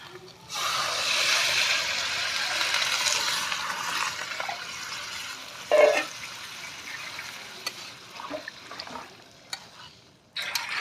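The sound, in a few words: water being poured into pot of cooking meat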